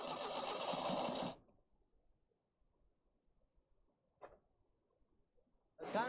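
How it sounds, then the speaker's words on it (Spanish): Fuel-injected car engine cranking and catching, a loud mechanical burst that cuts off abruptly, followed by near-quiet with a brief click and another loud surge at the end. "Encendemos el motor."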